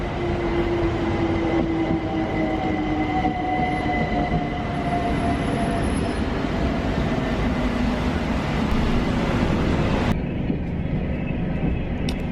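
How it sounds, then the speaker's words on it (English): A Southern passenger train heading for Milton Keynes Central passes through a London-area station, a loud, continuous rumble and roar of wheels on rail with steady tonal motor whines filling the whole stretch. "here comes the Southern service going to Milton Keynes Central"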